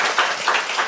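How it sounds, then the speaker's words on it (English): Short burst of audience applause at a panel discussion on digital innovation and energy, steady clapping under a second long. "Thanks for round of applause for Katrina,"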